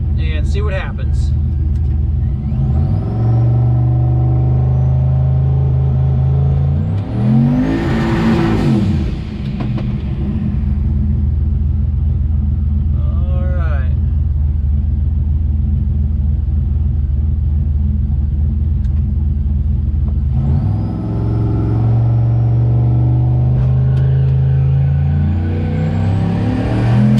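A turbocharged 1985 Chevrolet Caprice Landau on 26-inch wheels at a drag strip builds revs against the trans brake, then launches with a loud engine roar and rising turbo whine, followed by another loud engine run, with people talking over it.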